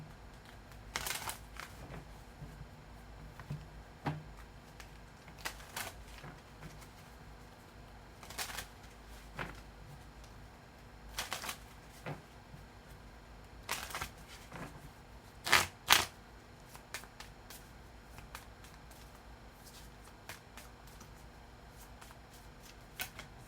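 Oracle cards are shuffled by hand in soft, repeated riffling bursts and flicks, quiet and close, with no talking.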